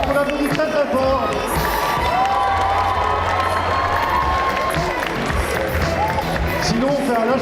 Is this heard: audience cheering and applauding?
yes